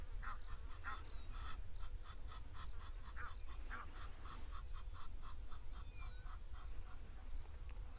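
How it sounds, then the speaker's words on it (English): A black cuckoo calls repeatedly in the distance outdoors, its faint, evenly spaced notes set against a steady wash of background noise with other birds around. "There's a black cuckoo calling now."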